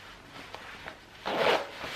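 A zipper on a small hidden pocket of a jacket is pulled in a few short rasps, ending with one longer, louder zip, close and quiet.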